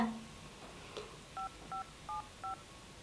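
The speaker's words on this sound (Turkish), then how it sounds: "Ah telefonum çaldı." A phone in the Avatar World video game rings as four short, evenly spaced electronic beeps. They are faint and quiet against a soft background hiss.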